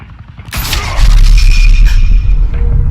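A sudden burst of gunfire and a crashing impact go off in a tense Batman: The Telltale Series standoff, followed by clattering debris and a low rumbling boom that rings out under a short ringing tone.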